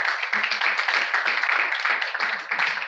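Audience applause at a motivational talk on mental programming for success, dense sustained clapping from a crowd, even and continuous throughout.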